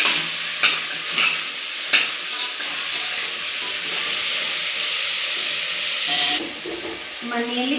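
Half a kilo of chopped, washed mutton frying in about ten spoons of Gold Winner oil, giving a steady loud sizzle and hiss with a few sharp stirring clatters and spoon knocks.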